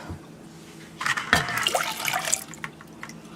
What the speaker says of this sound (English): we're going to go ahead and put in our cream and our milk